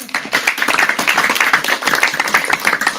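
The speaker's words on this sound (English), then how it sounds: "Big round of applause," Audience applause after an evening product-management talk in Wellington, a close, dense round of clapping that holds steadily throughout.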